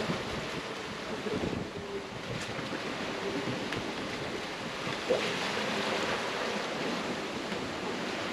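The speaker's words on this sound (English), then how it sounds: "And the casual 10-foot plus waves." Ocean waves surge around a sailboat on a Pacific crossing toward the Marquesas Islands, with swells over ten feet. A steady broadband wash of sea and wind noise runs throughout, with a brief bump near the end.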